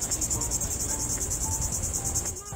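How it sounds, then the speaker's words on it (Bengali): Crickets chirp loudly beside a beach parking lot at night, a steady pulsing trill running without pause, close and dominant over a low background rumble. "কেমন জোরে জোরে ঝিঝি পোকা ডাকছে শুনছো?"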